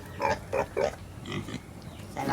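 A pig grunts and squeals in a series of short, close bursts, about five or six in quick succession, on a rural Philippine homestead.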